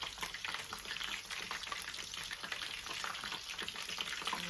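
Food sizzles and simmers steadily in a pan, a dense, continuous crackle of frying that stays close and even throughout with no talking.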